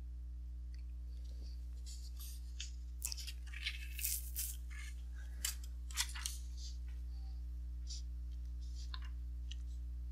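Soil specimen trimmed by hand to fit a consolidation test ring in a lab, soft scraping and cutting strokes in irregular bursts over a steady electrical hum, close, no talking.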